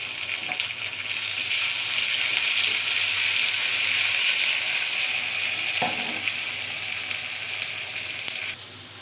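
Ginger garlic paste frying in hot oil in a pan, giving a steady, loud sizzling hiss that holds evenly for the whole stretch, with a brief stirring scrape near the end and no voices.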